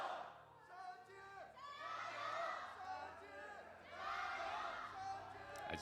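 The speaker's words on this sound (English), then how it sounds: "As we hit the Rift for the second time, you hear the fans cheering." Fans cheering in an esports arena at a League of Legends match, a broad crowd roar with shouts swelling twice, heard steadily under an announcer's voice.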